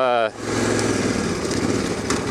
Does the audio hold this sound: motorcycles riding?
yes